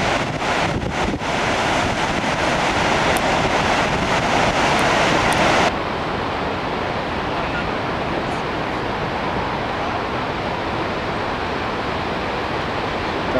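Niagara Falls roars as a steady, loud broadband wash of falling water, with gusting wind buffeting the microphone and adding extra hiss during the first few seconds.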